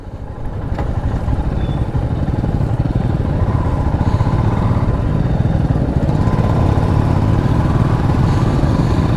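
A group of seven motorcycles rides along a highway near Nameri Tiger Reserve on the way into Arunachal Pradesh, giving a loud, continuous, close engine drone with steady rumble and wind.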